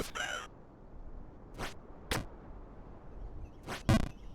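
A crow caws several times in the Jump King video game, in short separate calls spread across quiet gaps, with a final pair of louder caws close together near the end.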